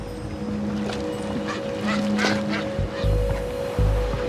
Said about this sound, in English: It's the refuge and breeding grounds of an endangered species found nowhere else, the Cape Verde shearwater